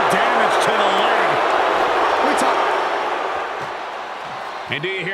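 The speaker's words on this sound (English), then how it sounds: "And do you hear this capacity crowd? They want more from Stone Cold." Capacity arena crowd roars steadily in the WWE 2K25 wrestling video game during a Stone Cold match, a dense continuous wash of cheering with a commentator talking over it, easing slightly toward the end.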